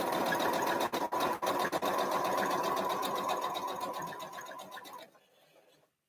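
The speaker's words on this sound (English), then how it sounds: "I'm chain sewing a couple of the blocks." A sewing machine runs steadily as two quilt blocks are chain sewn, a close, continuous whir for about five seconds, with a couple of brief stutters before the motor stops.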